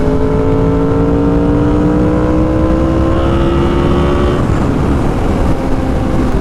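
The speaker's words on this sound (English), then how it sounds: "it's loud. It's an exhaust that you're definitely gonna want to wear earplugs in" A Yamaha R1 sport motorcycle fitted with an SC Project CR-T exhaust accelerates hard up through the revs, a loud, close, rising howl with an abrupt shift to a rougher roar partway through.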